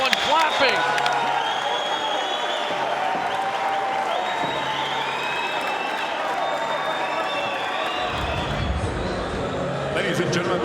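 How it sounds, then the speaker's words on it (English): Boxing crowd in a Brooklyn arena roaring and clapping through the final seconds of a bout, a dense, steady wash of cheers and applause with an announcer's voice talking over it. "Final seconds of the bout, and the crowd is roaring."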